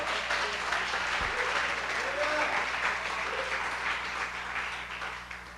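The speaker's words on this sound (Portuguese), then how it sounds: "Dê uma salva de palmas ao Senhor" A church congregation claps and cheers in praise during a sermon, a dense, steady wash of applause that carries on throughout, with voices mixed into the crowd noise.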